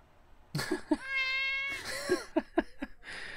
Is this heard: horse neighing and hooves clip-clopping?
no